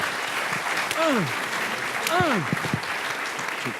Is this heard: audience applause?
yes